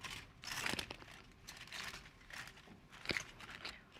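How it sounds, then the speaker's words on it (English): Aluminium foil crinkling and rustling in irregular bursts as it is folded onto long hair during red hair colouring, close and fairly quiet, with a couple of sharper crackles. "let's just put a little foil on"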